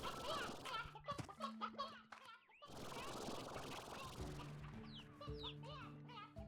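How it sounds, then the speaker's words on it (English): A rooster and hens in the Slime Rancher video game cluck in dense, overlapping bursts. The birds are fairly faint and sit among game music, with a brief drop to near silence midway. "Is that just the rooster being very loud?"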